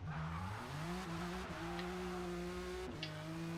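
Cadillac CT4-V Blackwing in Forza Motorsport launching on a drag tune, with a steady, loud engine drone and rising revs as the rear wheels spin, and tire squeal layered over the tone.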